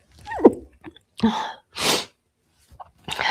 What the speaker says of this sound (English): Alrighty, I gotta sneeze.